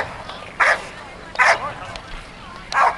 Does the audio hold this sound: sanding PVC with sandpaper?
no